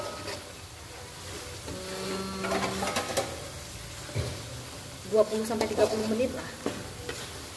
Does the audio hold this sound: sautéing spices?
yes